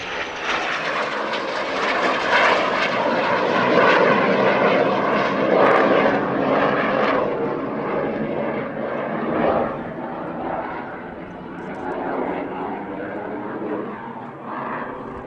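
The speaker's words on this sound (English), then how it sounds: "the Strike Master is a light attack version of the venerable Jet Provost trainer" A BAC Strikemaster light attack jet, a version of the Jet Provost trainer, flies an airshow display at Southport, its loud engine roar swelling as it passes, then receding to a steady, fainter drone.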